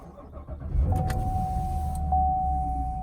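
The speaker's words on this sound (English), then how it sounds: "when you start the car up" A 2019 Chevrolet Camaro 2SS starts up with a low engine rumble, a brief whir and a steady electronic chime tone that holds to the end.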